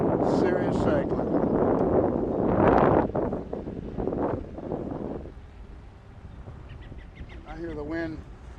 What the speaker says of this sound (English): I hear the wind